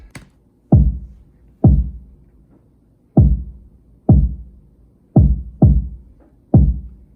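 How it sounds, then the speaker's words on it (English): A deep kick drum thumps alone in a sparse, repeating pattern, seven punchy low hits with short decays and silence between them. "The kick goes like this."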